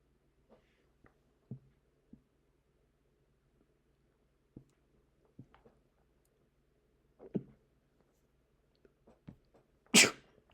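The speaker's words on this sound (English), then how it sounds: "As you can hear, I am sneezing." One sharp, loud sneeze near the end, standing out against a quiet background with faint scattered clicks and small noises before it.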